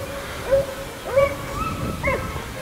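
Hunting hounds on an opening-day hunt give tonal, yelping bay calls at a moderate distance, three separate cries spaced about half a second apart over a quiet outdoor background.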